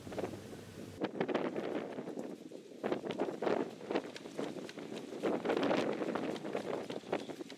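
Gusty outdoor wind buffets the microphone around a homemade wind wall generator with six motors and twelve coils, a broad rushing roar that swells and dips in waves throughout, with no one talking.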